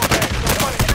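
Gunfire in the video game Call of Duty: Modern Warfare, rapid loud bursts of shots crackling close in quick succession, with a busy, dense mix behind.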